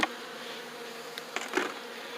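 Faint, steady buzzing from honey bees around a hive, a soft continuous drone with a few brief louder passes close by.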